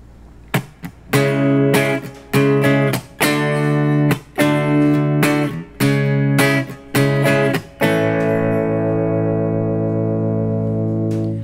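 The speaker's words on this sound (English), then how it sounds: "you're going to come in on a chord right on the upbeat" Guitar chords are struck hard in short choppy stabs on the offbeat, then one final chord rings out and fades.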